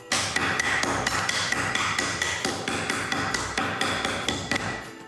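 Peppermint candies being crushed for a Christmas recipe, a rapid series of loud, close hard whacks repeating steadily for several seconds with no speech.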